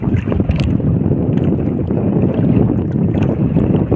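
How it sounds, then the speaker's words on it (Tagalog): Strong wind blowing over a small fishing boat on a choppy sea, a loud continuous roar and buffeting against the microphone with the wash of water underneath. "Naririnig siguro ninyo yung hangin."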